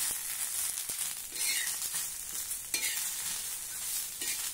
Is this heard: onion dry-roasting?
yes